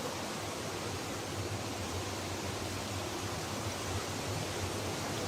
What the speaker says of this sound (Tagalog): Maagos yung tubig